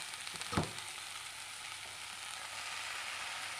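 Red amaranth greens drop into a hot pan with lightly boiled mango, a short soft thud followed by a quiet, even sizzle of frying that continues alone.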